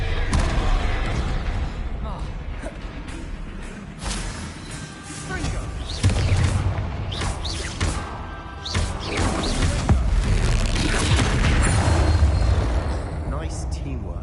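Spell blasts from the Confringo explosive curse boom through a Hogwarts Legacy battle against a troll, with dense crashes, thuds and rumbling impacts piling up continuously and loudly across the whole stretch amid busy game sound.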